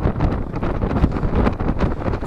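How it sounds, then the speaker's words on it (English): Strong wind buffeting the microphone on a mountain during a wild camp, a loud continuous roaring rumble with gusty fluctuations and no voices. "You might not be able to hear us in the wind"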